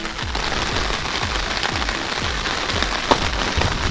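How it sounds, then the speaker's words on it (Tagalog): Heavy rain pours down on a hiking trail along the Seoul City Wall, a loud, dense, close patter on surfaces with a few louder drops, no voices. "Lumalakas po ang ulan."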